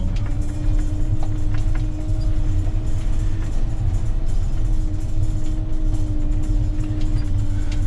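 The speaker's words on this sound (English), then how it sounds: "so there's the trains" A train rolls past a building site with large buildings going up, a steady low rumble and mechanical hum with faint clicks, continuous and moderately close throughout.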